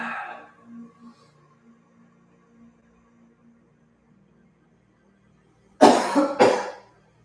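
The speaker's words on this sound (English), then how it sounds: "If you cough like I just did, that's great." Quiet near-silence, then a couple of sharp close coughs in quick succession near the end.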